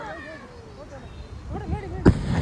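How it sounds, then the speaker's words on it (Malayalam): Firecrackers go off at a small family celebration in Kerala, a sharp loud burst near the end after a stretch of people talking and whooping in the background. "ആ ലാസ്റ്റ് പടക്കം പൊട്ടുന്ന കാണാൻ നല്ല രസമായിരുന്നു കേട്ടോ"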